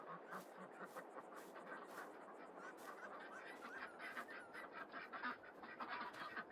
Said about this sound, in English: let's check in on these ducks.